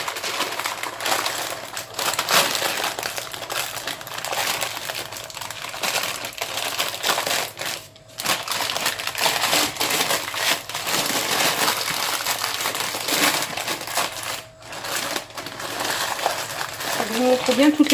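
Baking paper crinkles and rustles as it is folded shut around fish for an oven papillote, crisp handling noises running continuously close by while someone talks over them.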